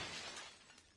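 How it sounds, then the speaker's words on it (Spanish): Glass windows shatter in the battle-royale game PUBG, a bright, splintering crash of breaking panes that fades quickly with a small tinkle of debris, heard without talk. "A romper cristales."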